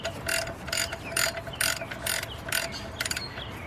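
A ratchet wrench clicks in quick, rhythmic bursts, about eight strokes, while removing a bolt from the timing chain guide of a GM engine. The ratcheting is close and distinct, with brief pauses between strokes and no talking.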